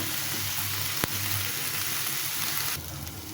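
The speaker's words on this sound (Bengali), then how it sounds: "রসুনটা আমি আধা ভাজা করে নিব" Garlic fries with onion in hot oil, a dense, even hiss close by with one sharp tap early on and a slight drop in intensity toward the end, with no talking.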